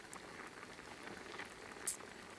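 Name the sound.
rice boiling in a pot for sushi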